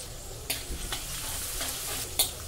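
Crushed garlic and green chilli sauté in oil for a gram-leaf stir-fry, a steady sizzle broken by a few sharp scraping strokes as the pan is stirred, close and fairly loud with no talk.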